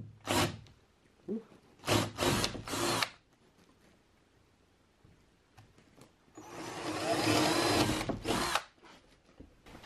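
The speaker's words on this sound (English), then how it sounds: "I'm going to use the drill in 2 corners here." A power drill bores into the corners of an outlet box cutout in a workshop wall, with several short whirring bursts followed by one longer sustained run.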